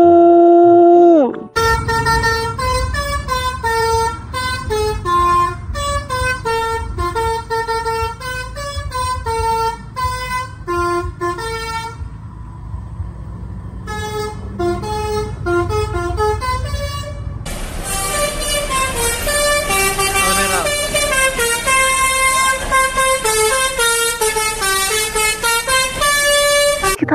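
Musical horns of a Tunggal Jaya bus play loud, continuous tuneful melodies close by, with sustained multi-tone phrases, a short pause, then a denser melodic run.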